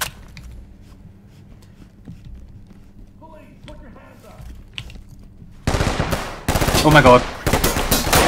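Gunfire in the tactical shooter Ready or Not erupts suddenly after a quiet stretch of faint ambient noise, loud rapid bursts of automatic shots close by, while a player briefly exclaims.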